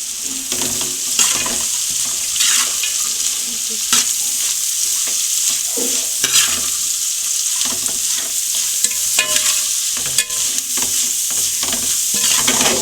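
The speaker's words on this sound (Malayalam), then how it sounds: "പിന്നെ കിടന്ന് മൊരിഞ്ഞ് തീ കുറച്ചിട്ടാൽ മതി." Bitter gourd stir-fry with turmeric frying in a pan and being stirred, a loud continuous sizzle broken by repeated scraping and clattering strokes of the spatula, close up and with no voices.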